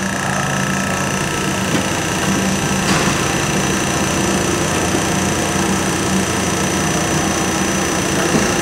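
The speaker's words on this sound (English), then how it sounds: "That's the dresser in motion." A profile dresser traversing on a Cincinnati #20M centerless auto infeed grinder gives a steady, dense mechanical whir with constant machine hum, even and continuous throughout with no talk.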